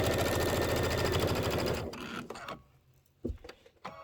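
Sewing machine stitching out a Kimberbell Sweet Land of Liberty pillow, a fast, loud, even rattling hum for a couple of seconds that stops abruptly, followed by a few soft clicks and handling sounds.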